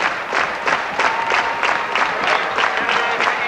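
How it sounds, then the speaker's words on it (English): Stadium crowd at a 1995 Prefontaine Classic men's 2-mile track race clapping in unison, a steady rhythmic beat of about three claps per second carried by a large, distant mass of hands that never breaks. "Nowhere else in the United States do you hear that sort of rhythmic clapping."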